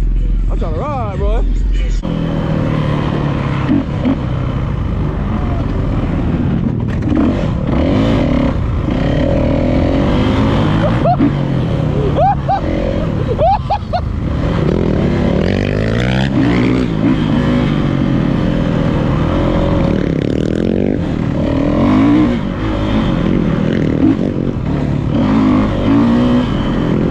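A dirt bike rides a track with a loud engine that revs and drones continuously throughout. People talk over the engine noise.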